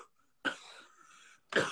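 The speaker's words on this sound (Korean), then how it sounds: "형 기침 소리 안 들려?" Two loud, close coughs, one near the start and another at the end, separated by a quieter stretch with no talking.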